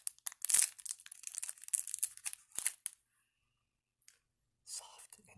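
Candy bar wrapper crinkling close up in a quiet Halloween roleplay setting, crisp bursts of rustling and crackle for a few seconds, then silence and a brief final crinkle.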